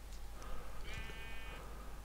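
A sheep in the video game Minecraft gives a single short bleat, moderately close, over a steady background hum with no talking.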